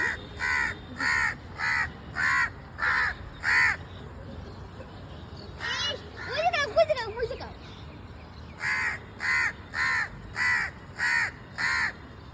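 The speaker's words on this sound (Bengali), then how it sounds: "এই যে এখানে একটা কাক কাকটা এখানে বসে আছে কাছে আছে" A crow perched close by gives repeated loud caws in a regular rhythm, broken midway by a pause where other bird calls come through.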